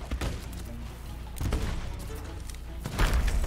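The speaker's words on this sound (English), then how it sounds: "I'm trying to shoot it at a distance and blow them all up." Gunfire and a booming blast in a video game as an explosive barrel is shot from a distance, with a few loud bursts including a heavier hit near the end over steady background noise.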